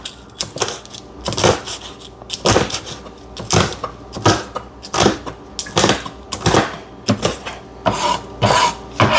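Dried red chillies are crushed for vada batter, a run of sharp, loud, rhythmic pounding or grinding strokes about every half second, close by and with no voice.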